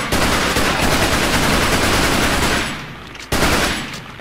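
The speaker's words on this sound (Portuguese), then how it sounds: "Tá descarregando a TMP nesse aqui." A TMP submachine gun in Resident Evil 4 fires in long continuous bursts of rapid shots, loud and dense, broken by a short gap before another burst resumes.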